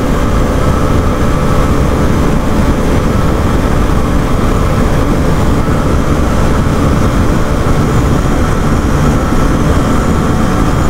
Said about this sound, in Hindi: अभी फिफ्थ गियर डाल दिया मैंने